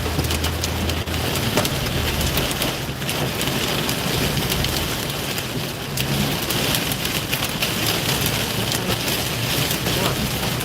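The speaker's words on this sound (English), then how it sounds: "Sounds like hail." Hail pelts down during a storm in Texas, a dense, unbroken hiss of hard patter lasting the whole stretch, loud and close, with a faint low rumble beneath.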